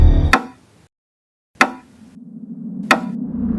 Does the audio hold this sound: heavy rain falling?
no